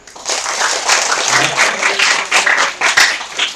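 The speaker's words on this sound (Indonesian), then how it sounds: "Tepuk tangan." An audience claps during a visit by SMK YPS students to a foundation. The applause is a fairly loud mixed patter of many hands that swells and continues with irregular sharper claps standing out.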